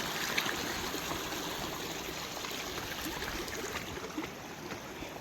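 Narmada river stream rushing and trickling over stones at a rocky crossing, a steady, close, continuous watery wash with no pauses and no talk.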